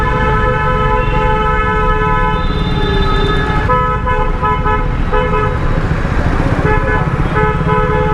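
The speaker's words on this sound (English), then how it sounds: "He has been honking for the last half an hour." A loud car horn blares in long sustained blasts, repeatedly restarting over steady traffic rumble, close by and persistent throughout.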